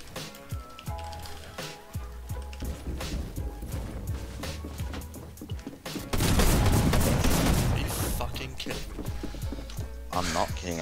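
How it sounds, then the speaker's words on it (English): Rapid drum shotgun fire in the Fortnite video game, with a burst of dense, loud blasts in the middle and scattered shots and game effects around it, all under continuous talking. "With a drum shotgun."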